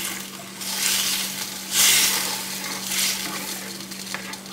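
Pan sauce of beef stock and wine for lamb chops being stirred in a hot pan, swelling hissing and scraping sizzles in several waves, loud and close with no talking.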